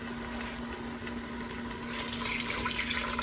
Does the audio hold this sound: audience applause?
no